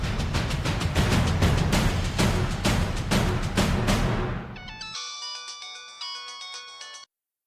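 A phone ringtone plays loudly as a call is placed, a steady repeating electronic tune that abruptly shifts to a thinner, brighter melodic pattern before cutting off.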